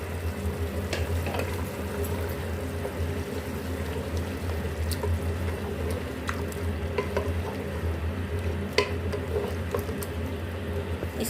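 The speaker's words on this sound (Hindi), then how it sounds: "और इसको हम अच्छे से मिक्स कर लेंगे।" Bottle gourd is being stirred into mutton curry cooking in a pot. A steady soft sizzle and bubbling runs throughout, dotted with scattered light scraping clinks of the spoon against the pot.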